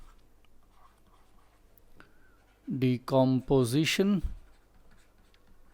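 Chalk or marker scratches faintly across a board in a classical mechanics lecture, brief soft strokes, followed by someone speaking a single word clearly up close.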